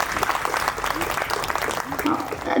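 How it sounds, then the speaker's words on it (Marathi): A gathering at a Dhammachakra Pravartan Day event breaks into applause to welcome a speaker, a dense, fairly distant patter of clapping filling the short moment. "त्याबद्दल सरांचे एकदा टाळ्या वाजून स्वागत करूया."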